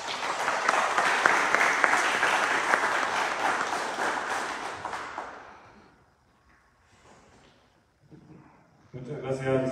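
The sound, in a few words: audience applause at ambulance handover ceremony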